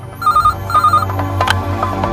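A telephone rings in a film scene, bursts of electronic trilling bell tones repeating twice, loud and close, followed by softer background sounds and no speech.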